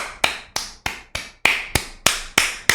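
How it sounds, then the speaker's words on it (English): About nine sharp, evenly spaced claps ring out close and loud, each followed by a short echoing decay, in an otherwise quiet setting. "Y'all clap it up for all the corruptors."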